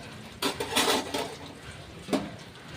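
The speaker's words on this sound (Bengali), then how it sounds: "এবার বন্ধুরা আমি ঢাকা দিয়ে দেবো।" A metal lid clanks onto a cooking pot holding a fish curry of potato, eggplant and tomato, with a cluster of close clattering knocks followed by one more short clink, no voices.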